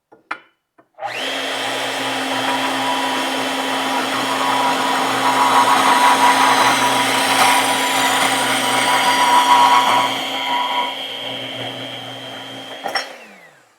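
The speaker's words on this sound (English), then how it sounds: "And then kind of grind it down a little bit and work my way up to it." A power tool grinds down a part while someone works on a 1971 Chevrolet Chevelle, running as a steady, loud whine with a ringing tone for about twelve seconds before cutting off.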